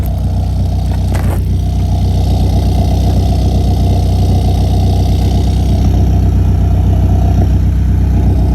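A 1997 Honda Civic with a small engine idles steadily nearby, a low throaty rumble from its aftermarket stainless steel exhaust holding even with no revving and no voices.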